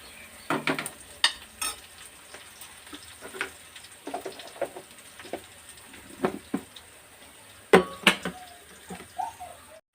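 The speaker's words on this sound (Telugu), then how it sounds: "బాగా వేయించుకుందాం" Tempering spices crackling and sizzling in a pan for upma, with scattered sharp pops and stirring scrapes over a low hiss, fairly quiet and close.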